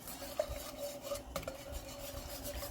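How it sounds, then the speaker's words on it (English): Whisk working through lumpy cheese sauce in a pot, a soft continuous scraping and rasping with a couple of light metallic taps, quiet and close. "Now I got to get in with my whisk. I'm just trying to make sure we get all of our clumps and lumps out."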